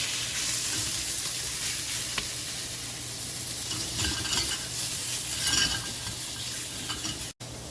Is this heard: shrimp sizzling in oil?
yes